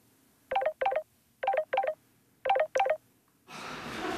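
An outgoing telephone call that goes unanswered, ringing back in three clear double-beep pairs at even intervals, followed by a sudden wash of broadband noise.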